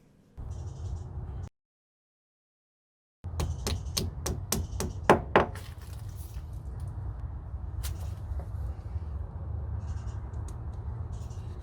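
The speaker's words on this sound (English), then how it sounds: "Now I'm going to put a wall plug into the hole in the wall that I just drilled." A wall plug is tapped into a freshly drilled hole in a wall with a quick series of sharp knocks, close and fairly loud, followed by a low background hum.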